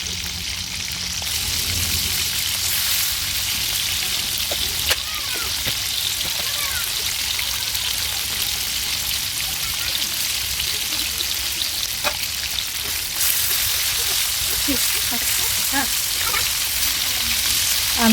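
Fish fries in a pan over a wood-burning stove in a village kitchen, giving a continuous sizzle with small pops and crackles. The sound stays close and steady, with occasional faint knocks from handling.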